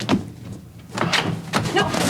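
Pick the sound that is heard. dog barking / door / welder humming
door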